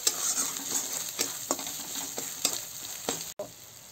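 Pieces of wallago catfish fry in a pan with steady close sizzling, broken by several short scraping stirs of a utensil and a brief dropout near the end, with no voices.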